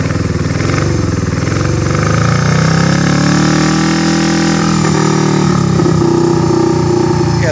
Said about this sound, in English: She's only running on one cylinder most of the time, so we're going to call her a single cylinder Sally